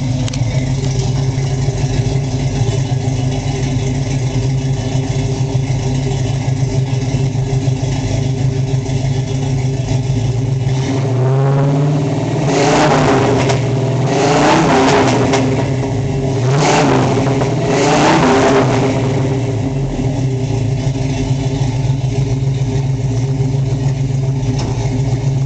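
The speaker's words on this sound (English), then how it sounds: "Great tone from the dual exhaust." A 1971 Chevrolet C-10 short-bed Stepside pickup with dual exhaust idles loudly up close, then gets several sharp throttle blips in a row midway through, each rev rising and falling back to a rumbling idle.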